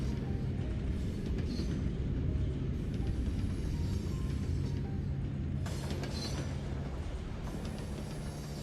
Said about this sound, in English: Nice loud train going underneath us.